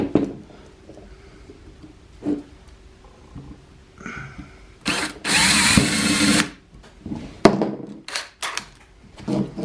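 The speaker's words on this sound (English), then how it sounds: "what I'm going to do is I'm going to try to drill a hole" A power drill bores a hole in a wooden board for a knife stand, one loud burst of whirring about a second and a half long, framed by scattered clunks and handling knocks nearby.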